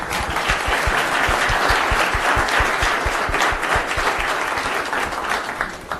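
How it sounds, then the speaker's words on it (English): An audience at a city council meeting breaks into sustained applause, many hands clapping densely and evenly, loud and close, with a few faint voices mixed in. "Everybody give a round of applause."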